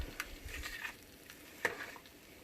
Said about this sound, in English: You can kind of hear that sizzle, which means that it's probably at the right temperature.